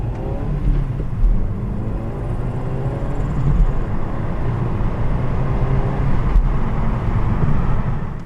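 A 2006 Seat Leon FR with a 2.0 TFSI engine drones steadily and loudly, a continuous low engine hum with no talking over it.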